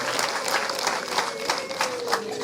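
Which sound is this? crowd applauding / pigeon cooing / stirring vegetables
crowd applauding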